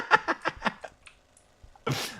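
A single abrupt sneeze, close and fairly loud, following a few quiet breathy sounds.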